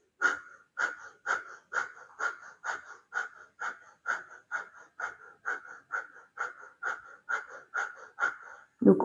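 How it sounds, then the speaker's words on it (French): Rapid, energizing Kundalini yoga breathing: a long run of quick, even, forceful breaths through the nose, about two per second, steady and close, with no talking over them. "c'est une respiration tellement énergisante et qui va faire monter l'énergie"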